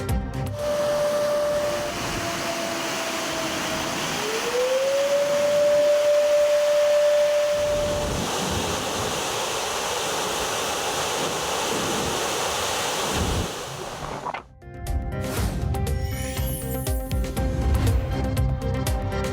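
Surplus water released from Aliyar dam, a loud, continuous roaring rush of water heard up close with windy microphone noise, a steady tone gliding through the first part before the sound cuts into other noise near the end.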